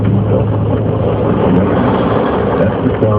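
A CSX freight train locomotive gives a loud, steady low-pitched engine rumble with broadband roar that holds constant throughout, heard alone without talk.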